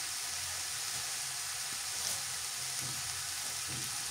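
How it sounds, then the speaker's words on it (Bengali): Bottle gourd greens fry and get tossed in a hot pan, giving a continuous, close hiss of sizzling oil with faint stirring scrapes and no talking. "কিছুক্ষণ উল্টে পাল্টে ভেজে নিয়ে"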